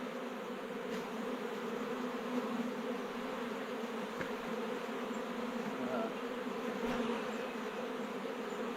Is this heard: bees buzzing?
yes